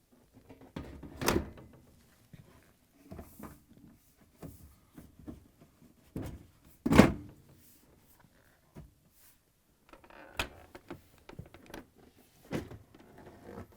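Someone fits the door panel onto a Bosch dishwasher with a series of scattered knocks and clunks, including a few sharper thuds, separated by quiet pauses.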